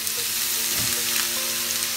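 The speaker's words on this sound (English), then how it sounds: "So we have to use ghee. We have to saute it for about 15 minutes." Shredded carrot sautéing in ghee for carrot halwa, with a close, steady sizzle and a brief stirring scrape partway through, no talking.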